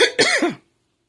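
A woman gives a single short cough, sharp and close, with a brief throaty follow-through before quickly fading into silence.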